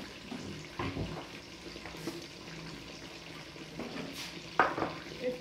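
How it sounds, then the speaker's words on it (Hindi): Bitter gourds (karela) frying in oil in a pan, a quiet sizzle broken by scattered stirring scrapes and clatters, close by and without any voice. "ये हमारे करेले फ्राई हो रहे हैं इसमें"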